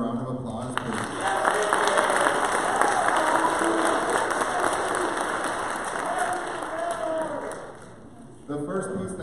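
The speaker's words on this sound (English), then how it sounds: "Let's give them another round of applause, please." An audience claps and lightly cheers for a high school jazz combo at a school band Christmas concert, steady applause that tapers off toward the end as a voice begins.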